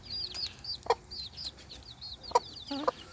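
A black hen in a coop clucks in short, soft bursts, with a few sharper calls standing out against quiet farmyard background; faint chirps of other birds sit behind.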